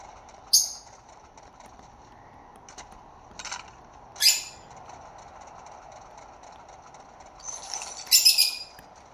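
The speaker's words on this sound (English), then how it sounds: "Yep, those are my birds, my pretty little birds." Scattered, sharp chirps and squawks from pet birds break out in a few short bursts against a quiet, low background hum.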